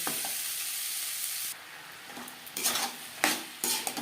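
Bean seeds mixed with salt and turmeric are stirred in a pan, giving a steady hiss that drops off midway, then a few distinct scraping strokes near the end, close and alone with no talk.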